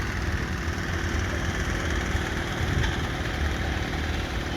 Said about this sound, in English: '51 is a Burrell traction engine owned by G.